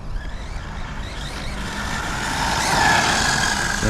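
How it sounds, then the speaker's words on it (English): An electric RC off-road car motor on a 6S setup strains under load, a continuous loud whining drone that builds in intensity toward the end. "That motor is going to die soon,"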